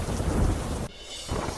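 Heavy monsoon rain pounds waterlogged roads on a station road in Gujarat, a dense close roar with a deep rumbling swell, cutting briefly quieter before returning.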